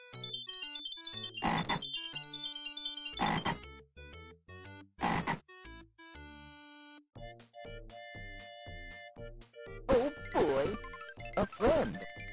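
Cartoonish frog croaks from the Sega Genesis game Barney's Hide & Seek, sounding in several loud bursts over bright synthesized chiming game music, with a few short tonal blips later on.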